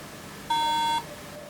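A liquid-damaged MacBook Pro 13-inch Mid 2012 with a corroded keyboard connector gives one clear, steady electronic beep lasting about half a second, alone over a faint background hum.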